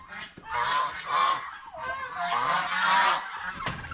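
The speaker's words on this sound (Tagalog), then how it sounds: "May mga pabo dito, oh." Turkeys on a Philippine farm call in a loud, raucous flock chorus, overlapping honking gobbles in two long bursts with a short gap between, close by and with no talk over them.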